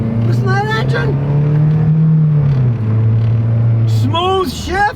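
Toyota 2.4 liter engine at full throttle, a loud steady droning rise that holds and then drops with a shift, near and continuous under intermittent talk.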